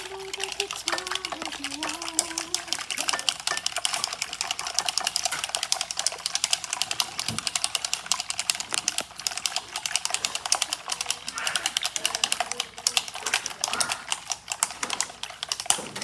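A whisk beats batter in a bowl with steady, rapid clicking strokes that run through the whole stretch, close and fairly loud, with a brief voice early on.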